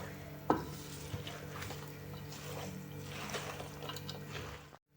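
Zucchini salad being stirred with oil in a bowl, soft wet squishing and scraping that runs steadily for about five seconds, with one sharper knock near the start and no voices.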